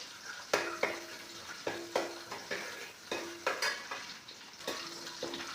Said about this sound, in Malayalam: വെളിച്ചെണ്ണ ഒഴിച്ച് കൊടുത്തിട്ട് വെളുത്തുള്ളി, ഇഞ്ചി, കറിവേപ്പിലെല്ലാം ഇട്ട് കൊടുത്തിട്ട് അത് നല്ലോണം മൂത്താകുമ്പോൾ നമുക്ക് ഉള്ളി,